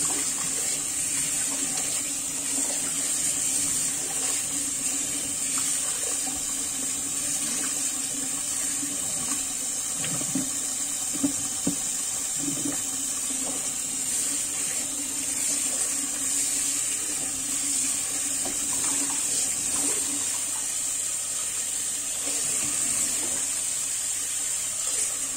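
Tap water runs steadily over olives being washed, a continuous hiss with faint splashing and knocks in the middle, near and unbroken throughout.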